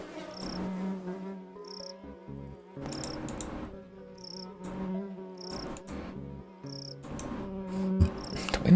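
Insects buzzing in the point-and-click game The Darkside Detective, with repeating short high chirps at a steady interval over soft low game music and ambience, fairly faint, with no voices.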